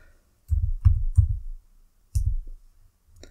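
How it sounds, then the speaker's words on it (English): A few keys tapped on a computer keyboard to type letters, heard as close, soft clicks in two short bursts with a quiet pause between. "we can just type in a few letters"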